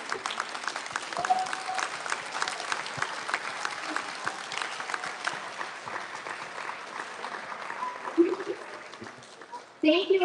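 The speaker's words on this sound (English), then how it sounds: "Can we give them one more round of applause?" Sustained applause from the audience at an elementary school student recognition ceremony honoring award recipients, a dense steady clatter of clapping hands that holds throughout and fades out at the very end, with a brief voice near the close.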